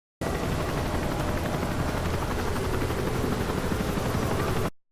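A steady, dense helicopter roar from Call of Duty: Modern Warfare 3 fills the whole stretch, loud and constant without a break, starting and cutting off abruptly.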